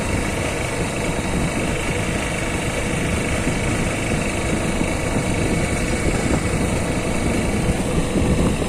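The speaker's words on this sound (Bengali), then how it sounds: "এই আমরা যাচ্ছি বাইক নিয়ে।" A motorbike rides along a road during Maha Navami festival outings, its engine humming steadily and close with broadband road and wind rush throughout, no speech.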